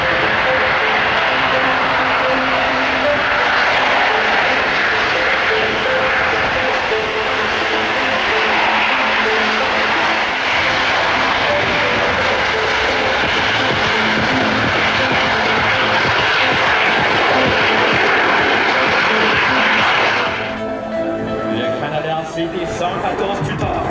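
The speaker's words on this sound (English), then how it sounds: "this airplane has power to go as she tap dances on those rudder pedals once again and just going back and forth along the show" An aerobatic airplane performing along the show line at the 2024 Abbotsford Airshow, its engine a loud, sustained roar that holds steady for about twenty seconds before easing off, while an announcer talks over it.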